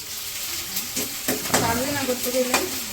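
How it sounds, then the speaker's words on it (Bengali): Mixed vegetables sizzle steadily in a hot pan on a village kitchen stove while a utensil scrapes and stirs them in a few loud strokes, with frying hiss continuous throughout. "সবজি তো ভাজি করতে গেছে"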